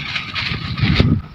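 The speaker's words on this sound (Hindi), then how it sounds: "हवा चल रही है" Wind blows outdoors in a Pakistani village where fish is being fried over an open fire. It makes a steady rushing, buffeting noise against the microphone that swells and fades over a brief moment.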